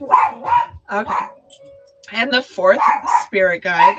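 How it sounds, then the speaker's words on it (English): Dogs bark indoors during a spirit-communication tarot reading session, sharp barks mixed in with close, steady conversation that runs through most of the clip. "I'm sorry about my dogs"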